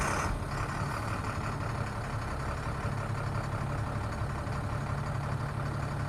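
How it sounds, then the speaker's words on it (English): A 2005 Altec AA600L truck's diesel engine turns over and settles into a steady, loud, rumbling idle that runs continuously close by, without any talking. "So I'll go ahead and turn the key here and start it up so you can watch the gauges."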